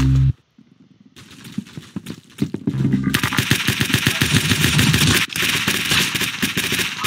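Gunfire in a shooter video game. After a brief silence, scattered shots build into sustained rapid bursts that crackle loudly, pause for a moment and then resume.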